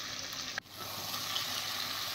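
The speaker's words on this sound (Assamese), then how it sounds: "ধুনীয়াকৈ মই মাংসটো ভাজি আছোঁ।" Chicken meat sizzles and fries in a pan, a steady close hiss with a brief stir partway through and no talking.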